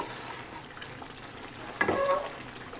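Palak methi keema fries quietly in a pan with a soft, low sizzle, then a brief louder burst of stirring and sizzling near the end, close up without speech.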